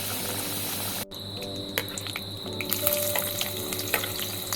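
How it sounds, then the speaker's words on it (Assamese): Potatoes frying in oil in a pan, a continuous fine sizzle and bubbling with occasional small crackles and a faint utensil tap, close and fairly quiet. "আলুখিনি এনেকৈ ফ্ৰাই কৰি লৈছোঁ অকণমান ফাৰ্ষ্ট, ৰঙা হৈ গৈছে"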